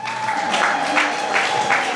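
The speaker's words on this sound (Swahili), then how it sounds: "naomba makofi kwao" Audience at a church thanksgiving celebration gives the performers a steady round of applause, a dense, even patter of many hands clapping together at moderate distance, with some voices and a sustained tone underneath.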